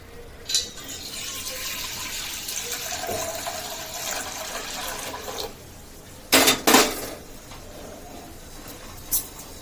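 Running water splashes steadily while dishes are rinsed, with a few sharp clanks of metal vessels knocking together partway through.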